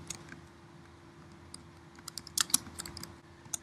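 Keystrokes on a computer keyboard while entering a heading in Google Sheets, faint at first, then a quicker run of sharper clicks near the end with a steady low hum beneath.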